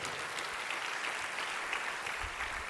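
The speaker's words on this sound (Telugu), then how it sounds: "గట్టిగా చప్పట్లు కొట్టి దేవుని అనుమాయింపరచండి" Congregation at a Christian sermon clapping loudly together, a dense continuous burst of applause filling the whole stretch without pause.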